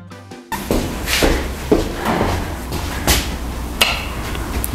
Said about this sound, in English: Obviously, we need to open the door.